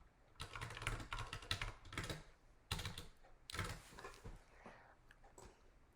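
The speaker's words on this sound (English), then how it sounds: "That just lets you type ideas like you would in a Google Doc or a Google slideshow." Computer keyboard typing in bursts of quick, close key clicks, with a pause around the three-second mark before a final flurry that trails off; no talking.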